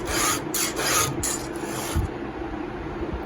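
Hand file rasping across a semi chisel chainsaw chain, a handful of quick rhythmic strokes up close, each a bright scraping burst, then quieter scraping.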